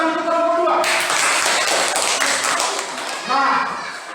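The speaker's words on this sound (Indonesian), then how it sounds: "Tepuk tangan untuk kelompok 2." Classroom applause for a student group returning to their seats, a dense burst of many hands clapping that swells in and fills the room for several seconds, with a teacher's voice before and after.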